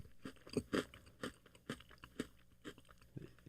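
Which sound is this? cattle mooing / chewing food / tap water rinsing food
chewing food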